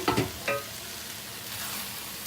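Vegan soy chorizo fries in a pan, a steady crackling sizzle with a few stirring scrapes at the start.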